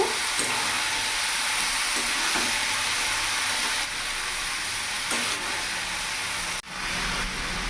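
Ash gourd curry sizzles steadily in a pan over a medium flame while a spatula stirs it, with a few scraping strokes and a brief sharp knock near the end, close and even.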